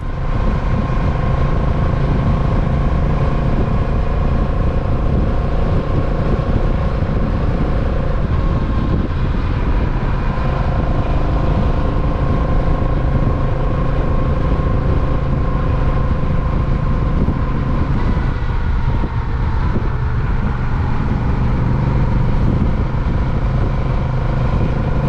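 A 2023 Honda Rebel 1100 DCT motorcycle with a Puig Custom II windscreen cruises at highway speed, a steady engine drone under loud, unbroken wind rush that holds level throughout with no talking.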